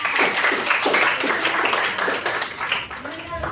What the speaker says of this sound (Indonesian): Tepuk tangan dulu untuk pertanyaan.